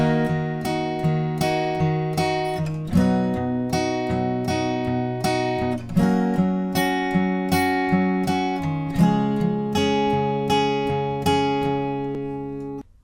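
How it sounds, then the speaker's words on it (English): Acoustic guitar picking pattern moving through the chords of a song's verse, with bass notes and plucked upper strings in a steady, ringing rhythm, played alone for several bars with clear chord changes. "now for the verse, what I like to do is play more of a picking pattern."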